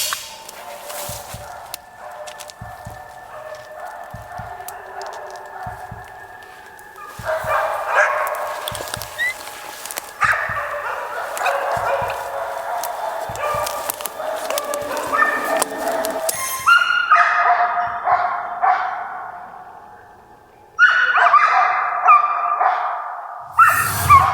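Hunting dogs barking at a bear in dense taiga forest, repeated sharp barks and yips from more than one dog at moderate distance, growing louder and more insistent toward the end.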